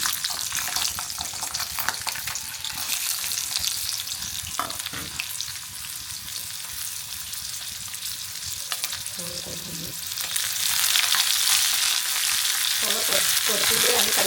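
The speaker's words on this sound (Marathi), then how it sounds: "तसं हे थोडं थोडं भाजून घ्यायचं. जास्त नाही भाजायचं, कारण आपल्याला पुन्हा मग परतायचंच आहे ना, परत पुन्हा तेलावर." Garlic and whole spices such as cinnamon and cardamom fry in oil in a pan for a Konkan cashew and chicken curry, with a steady close sizzle that grows louder near the end and occasional stirring scrapes.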